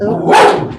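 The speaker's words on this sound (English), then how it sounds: "sorry, that's my dog" A pet dog lets out one loud, close bark during an online meeting, with a brief spoken exclamation over it.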